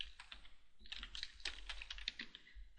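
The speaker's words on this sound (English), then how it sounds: "So what we want to do here is just type in our project name." Steady run of keyboard keystrokes typing a project name on a computer keyboard, close and clear, in quick uneven bursts with brief pauses and no talking.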